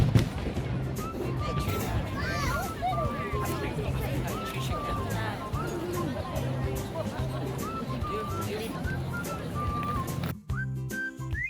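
Repeated fireworks bursts and whistling rockets at Singapore's birthday celebration, over a noisy crowd murmuring nearby, ending with a sharp loud pop.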